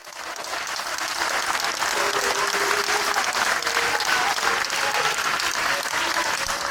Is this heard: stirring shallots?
no